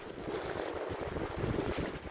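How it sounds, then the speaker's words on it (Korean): Wind and waves in the open middle of the sea, by rocky shore where mussels are gathered, make a steady roaring wash with buffeting gusts that stay fairly loud throughout. "바람도 파도도 피할 길 없는 바다 한복판"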